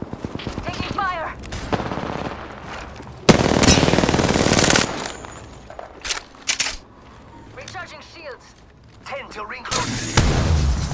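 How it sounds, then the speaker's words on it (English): Bursts of automatic gunfire from the battle royale game Apex Legends, loud and close, in several rapid volleys separated by short pauses, with game voice lines and other effects between them. "Taking fire!"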